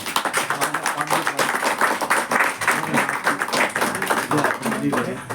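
Audience at a Hindi veer ras poetry recital claps vigorously and continuously, a dense, lively round of applause with voices mixed in.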